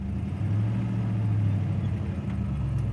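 Engine of the classic car Christine idling and pulling away in first gear, a steady low rumble close by, with no voices.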